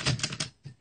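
Keys striking on an antique Woodstock typewriter, a quick run of about three close, loud clacks followed by a short pause and one more strike.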